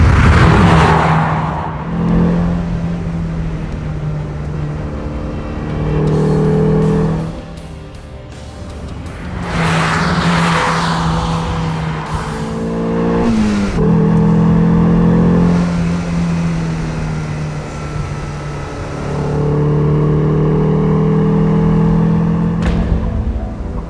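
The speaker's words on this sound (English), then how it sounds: "Clearly, this is a Cosworth engine. It sounds unbelievable. It's that nasally intake honk that you love to hear in race cars, mixed with smooth, quiet running." Mercedes-Benz 190E 2.3-16 with its Cosworth four-cylinder engine, driven on roads near the Nürburgring, loud and close with repeated rising revs and gear changes, a nasal intake tone over smooth running.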